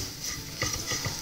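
Grated coconut frying in a pan for dry fish chutney, stirred with quick repeated scraping strokes over a soft continuous sizzle, close and fairly quiet.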